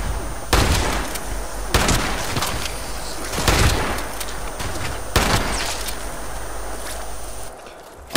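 A Gatling plasma gun fires in the video game Fallout 76, with several loud separate bursts a second or two apart and a sustained hiss between them, ending in a sudden drop and a final crack.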